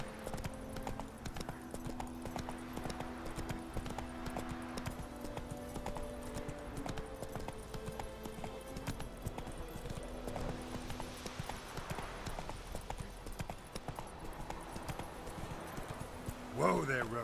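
Roach the horse gallops in Witcher 3 Wild Hunt, hooves clip-clopping in a fast continuous rhythm for the whole stretch under game music and ambience, with a voice speaking over it.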